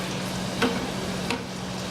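Pasta pieces fry in hot oil while being stirred, giving a steady close sizzle with a constant hum beneath and a couple of brief scraping stirs.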